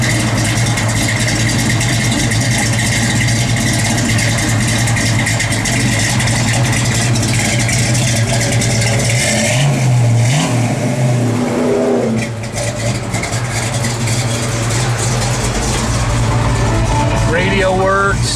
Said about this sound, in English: Boy, car's got nasty sound.